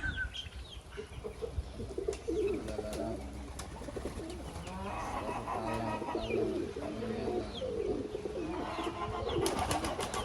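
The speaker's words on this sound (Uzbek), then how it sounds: "Ko'z tegmasin, sara kaptarlar." Pigeons coo in soft, low, repeated calls that overlap throughout, with a steady outdoor background and no talking.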